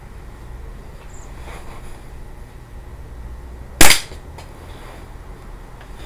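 Single loud gunshot at an outdoor shooting range, fired at an empty aerosol can, a sharp crack against a quiet background with a faint echo afterward.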